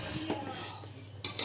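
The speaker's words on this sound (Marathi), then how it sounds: "आता इथं मस्त असं मी शेवाळ्या भाजून घेणार आहे" Metal utensil scrapes and taps in a pan while shevaya vermicelli noodles are dry-roasted for shevaya upma, a few light clinks and scratches, close and fairly quiet, with no talking.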